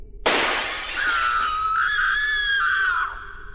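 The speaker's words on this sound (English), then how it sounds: "the next thing I heard was the sound of glass shattering" Glass shatters in a loud burst, and a long, high scream follows and holds for about two seconds before cutting off, with no talking.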